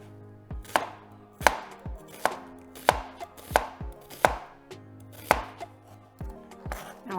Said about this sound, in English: we're gonna take our onion and we're gonna slice it